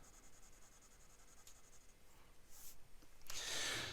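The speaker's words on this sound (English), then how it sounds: "So if I do some vertical passes, we'll see how wet this nib is, and we'll do some horizontal passes." Aurora 88 fountain pen with a wet nib scratching lightly across paper in vertical then horizontal strokes, soft and close, growing a little louder toward the end.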